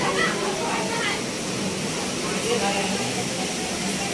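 Water rushes steadily inside the cave at Dudh Dhara waterfall in Amarkantak, a dense, continuous roar that fills the space with no pauses, while voices speak over it.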